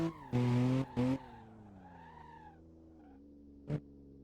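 A BMW E92 drifts in Assetto Corsa, giving two loud bursts of tire squeal, then a fading engine note with wavering pitch, and a brief sharp squeal near the end.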